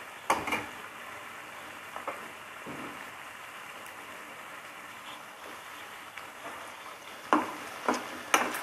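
Potatoes fry over a high gas flame in a pan, giving a faint, steady crackling sizzle with occasional sharp scrapes and knocks as they are stirred.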